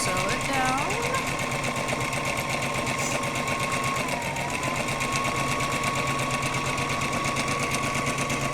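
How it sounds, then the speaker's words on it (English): A sewing machine runs steadily while stitching down a seam allowance, a continuous close whirring hum with a short backstitch, as someone talks over it. "Line it up, press your foot down, back stitch a little bit, and then we just sew it down."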